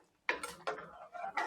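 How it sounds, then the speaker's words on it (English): Sorrel sauce being stirred in a pot, with a few distinct clinks and scrapes of a spoon against the metal, close and moderately loud, without any talking. "As soon as you add it to the pot, you want to mix."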